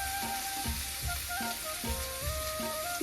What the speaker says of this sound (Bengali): জিরা দেওয়ার পরে এবার আমি সবজিগুলো ভেজে নেব।